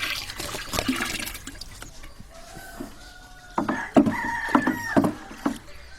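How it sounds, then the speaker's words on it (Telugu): Cow dung is stirred into water for jeevamrutham, giving wet sloshing and splashing that builds into stronger churning near the end, with a rooster crowing faintly in the background. "ఆవు పేడని ఈ విధంగా మనం ముందుగా వాటర్లో మిక్స్ చేసుకొని మంచిగా కలిసిన తర్వాత మనం దానిలో వేసుకున్నట్లయితే"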